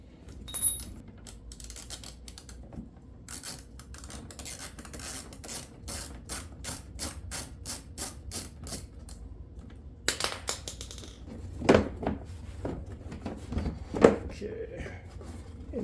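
Ratchet removing a 7mm screw under the rear bumper of a 2013 Chevy Equinox, rapid runs of close, light clicking with pauses, plus scattered metallic rattles and handling noises.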